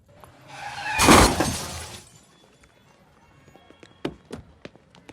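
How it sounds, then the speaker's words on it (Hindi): A car is struck in a Bollywood film scene: a loud, roughly one-second crunching impact with shattering, followed by a few sharp scattered taps of falling debris. "गाड़ी ठोक दी मेरी।"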